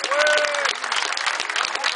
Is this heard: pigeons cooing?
no